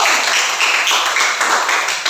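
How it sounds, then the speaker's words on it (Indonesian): A classroom of students applauds a presenting group, with dense, continuous clapping from many hands at fairly close range that holds steady for a couple of seconds. "tepuk tangan buat kelompok satu"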